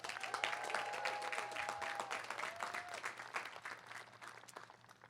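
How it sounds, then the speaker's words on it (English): Graduation audience applauding the Berkeley City College class of 2026, steady broad clapping from a large crowd with a whistle or two rising above it, fading slightly toward the end. "can we give one big round of applause for the Berkeley City College class of 2026?"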